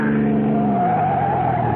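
Car skidding as it is forced off the road in a chase: a loud, sustained tire squeal with a shifting pitch over the engine's roar, close and continuous for a couple of seconds.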